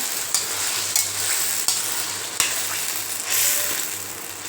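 Tomatoes for tomato pickle cook down in a pan with a loud, bright sizzle, punctuated by a few sharp taps and scrapes of a spoon stirring and mashing, close up and alone.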